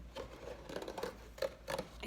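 Scissors cutting a sound hole into a cardboard box for a homemade guitar, quiet irregular snips and scraping cuts close up in a hushed room.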